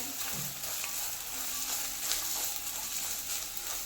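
Grated coconut roasting in ghee in a pan, giving a soft, steady sizzle with faint stirring scrapes, fairly quiet and continuous throughout.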